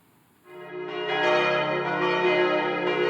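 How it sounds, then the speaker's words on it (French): Bells of the Saint-Cybard church in La Rochefoucauld ring out loudly after a short quiet start, rich overlapping peals sustaining and layering continuously. "les cloches de l'église Saint-Cybard sonnaient de nouveau à La Rochefoucauld"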